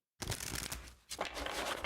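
Tarot cards being shuffled by hand: a quick papery riffle and crinkle that starts abruptly, pauses briefly, then continues, close to the microphone with no voices.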